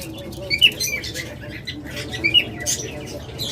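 Pet lovebirds, cockatiels and budgies for sale chirp and squawk in short, scattered high calls over a low background murmur, close and moderately loud.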